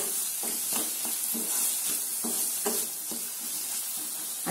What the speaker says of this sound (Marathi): थोडं मीठ टाकलं की आता याला पण छान आपण मिक्स करून घ्यायचं.